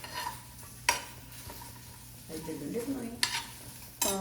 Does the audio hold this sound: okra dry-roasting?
yes